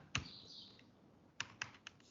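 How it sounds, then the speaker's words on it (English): Typing on a computer keyboard: a few sharp, isolated key clicks spaced unevenly, close and fairly quiet, with no talking. "I am typing"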